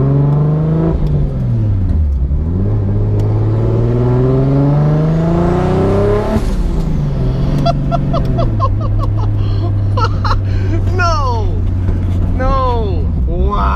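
Turbocharged RB26/30 engine swapped into a Nissan 240SX S14 pulls hard through rising and falling revs across gear changes, with loud turbo whistle and chirpy blow-off chatter up front, continuous and close from inside the car.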